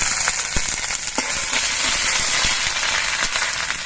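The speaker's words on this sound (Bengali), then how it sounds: "আমি কয়েক সেকেন্ড ভেজে নিয়েছি এবার এর মধ্যে আদা বাটার দিয়ে দিয়েছি" Ginger paste spits and crackles in hot oil for a bottle gourd shukto, a loud, close frying sizzle dotted with sharp pops and stirring, no talking.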